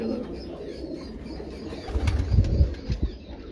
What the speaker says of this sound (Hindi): बिल्कुल खुशक पैरों के नीले पंजों के कबूतर इनके पास ये वाले हैं